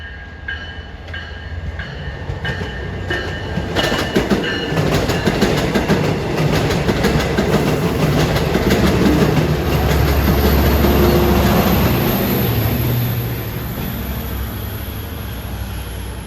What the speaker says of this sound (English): approaching at 647 is train 35 en route from Spionk to Long Island City. He stops here.